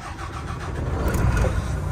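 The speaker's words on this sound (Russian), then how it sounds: "Нет, завелась" A car engine catching and starting, then settling into a steady running idle that swells slightly toward the end, heard close and fairly loud with no talk.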